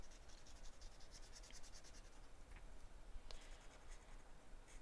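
Marker or pen scratching and rubbing steadily on paper while icons are colored in on a paper savings tracker, close and continuous with brief sharper strokes, no talking.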